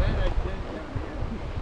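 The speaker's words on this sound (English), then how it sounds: "Listening to that water all night would make me sleep like a baby." Lake water laps at the shore at Paul Grist State Park in Alabama, a soft, continuous wash of water mixed with some wind rumble against the microphone.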